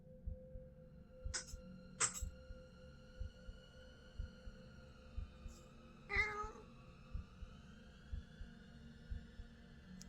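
Indoors, a cat gives a few short meows with pauses between them. The calls are faint against a quiet background hum with soft thumping.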